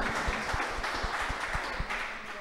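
An audience applauds at a university dialogue event, a steady wash of many hands clapping continuously, moderately loud, with no talk over it.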